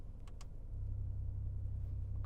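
Low, steady exhaust rumble from a Porsche 911 992 GTS idling with its exhaust valves opened, the tone deepening and growing louder partway through, close and without talk.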